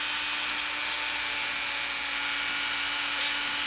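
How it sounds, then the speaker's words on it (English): A power drill whirs steadily as it bores a hole into a small miniature figure, a loud, continuous high-pitched whine held without pause, no voices. "I'm going to drill this in a little more just for demonstration's sake"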